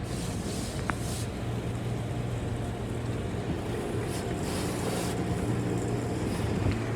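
Hot pre-soak sprays across a car inside a car wash tunnel, a continuous broad hiss of jets and mist that holds steady and close throughout.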